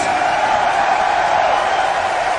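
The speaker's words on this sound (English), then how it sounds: "everyone in this arena, and all the fans of WCPW around the world want to give this legend a round of applause that he deserves" Wrestling arena crowd cheering and applauding Kurt Angle, a loud continuous roar of cheers and whoops filling the hall without a break.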